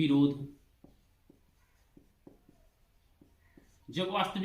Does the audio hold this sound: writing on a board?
yes